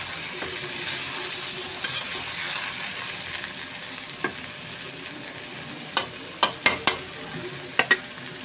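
Pointed gourd slices fry in a pan as they are turned, a low, steady sizzle under scattered sharp clicks and scrapes of a utensil, clustering into quick taps near the end.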